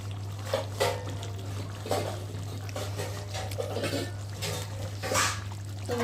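Chicken curry simmering in a pot with sugar dissolving, giving soft irregular bubbling and popping bursts over a steady low hum, close and moderately quiet.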